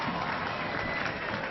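A stadium crowd cheers and applauds at a Connacht versus Samoa rugby match, a broad, sustained, even roar of many voices and claps filling the whole moment.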